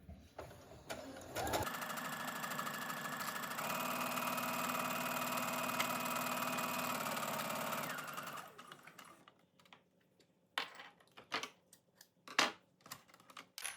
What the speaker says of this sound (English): pivot, put the presser foot back down, pull my threads so they're over to the side, and then keep sewing